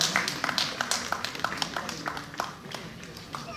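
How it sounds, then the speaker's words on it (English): Audience applause at a Catholic community gathering, a brief scatter of hand claps that thins out toward the end. "that calls for a round of applause"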